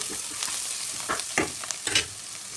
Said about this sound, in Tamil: நல்லா மல்லி இலையெல்லாம் போட்டுட்டு நல்லா வதக்கி விட்டுக்கணும்.